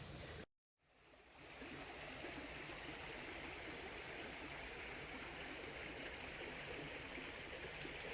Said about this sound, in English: We're just following the banks of this river here.